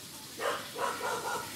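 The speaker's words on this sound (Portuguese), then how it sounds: "Olha o cachorro latindo comigo" Three short dog barks in quick succession in GTA San Andreas on Android, somewhat distant and muffled, with a steady background hum.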